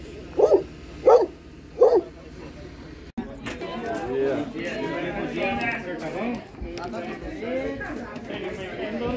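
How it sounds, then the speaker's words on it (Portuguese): A dog chasing a drone outdoors on a rural tour near Gramado barks three times, loud and close, in a steady rhythm. Then people talk continuously over background noise. "Agora tem o cachorro aqui, ó,"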